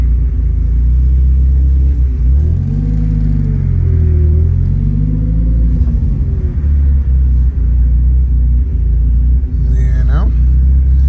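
Mitsubishi Conquest '89, recently fitted with new lifters, pulling hard in first gear from inside the cabin, a steady loud engine drone and rumble with rising and falling harmonics, no one talking over it.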